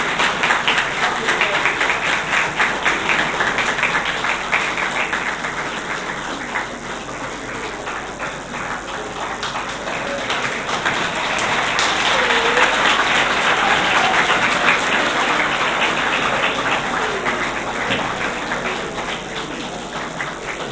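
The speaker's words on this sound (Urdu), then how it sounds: "تالیاں لگانا کتنا اچھا لگتا ہے" A crowd at a formal ceremony gives sustained applause for about twenty seconds, dense and steady, swelling slightly midway, with no voices standing out.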